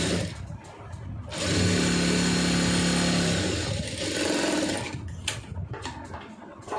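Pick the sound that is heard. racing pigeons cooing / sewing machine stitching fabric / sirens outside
sewing machine stitching fabric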